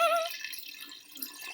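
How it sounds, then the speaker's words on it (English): Water poured at a children's playgroup, a brief splashing trickle with light dripping that fades after the first moments, fairly close and without voices. "Come on, pour the water in and see what happens."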